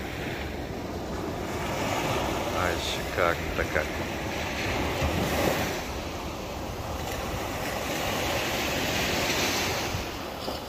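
Sea surf roars continuously on the beach at Vityazevo, Anapa, with waves breaking in a broad, steady wash and gusts of wind buffeting the microphone, as someone speaks briefly over it.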